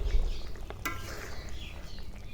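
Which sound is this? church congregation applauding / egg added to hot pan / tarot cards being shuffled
egg added to hot pan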